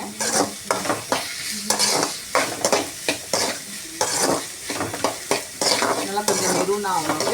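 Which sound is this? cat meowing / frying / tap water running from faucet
frying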